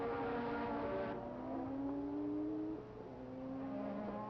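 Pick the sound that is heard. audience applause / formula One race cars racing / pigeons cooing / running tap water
formula One race cars racing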